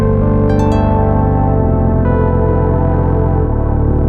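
Loud, dense Moog Messenger monophonic analog synth line with a gritty, rich low tone stepping down in pitch, a few bright blips near the start, played alone.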